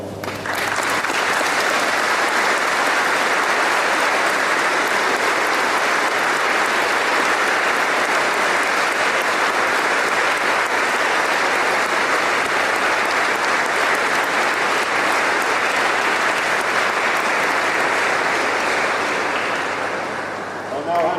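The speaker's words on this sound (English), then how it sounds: "I'm sure they'll take a big hand of applause." Sustained, dense applause from an audience at a cadet wing training day parade and presentations, thanking the caterers; loud and even for about twenty seconds before easing slightly at the very end.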